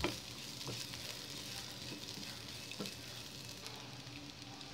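Capsicum and carrot fry in a pan for white sauce pasta, a steady close sizzle with a few stirring scrapes and soft clicks running throughout.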